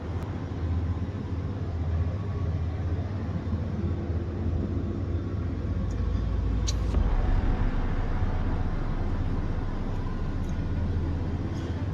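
A truck climbs a winding mountain road in Al-Baha, Saudi Arabia, its engine a steady loud drone with rumbling road noise throughout, swelling briefly partway through.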